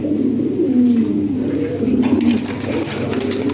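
Lahori Siraji fancy pigeons coo in low, throaty rolling calls, with a couple of drawn-out coos rising above a busy background of cooing birds close by.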